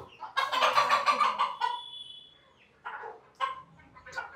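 Chickens on a rooftop farm cluck and squawk up close in a loud burst, then a few shorter clucking calls follow after a brief quieter gap.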